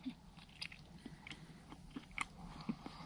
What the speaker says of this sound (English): Look at him out in nature eating peanut butter pancakes.